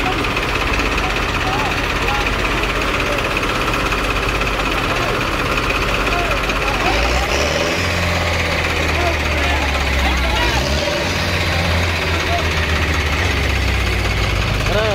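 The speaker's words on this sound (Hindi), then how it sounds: "अभी जो ट्रैक्टर जुड़ रहा है फार्म ट्रैक का" A Farmtrac 6060 tractor engine of 60 HP chugs loudly and steadily at a double harrow pulling competition in a village, with a heavier low rumble building midway, while people talk over it.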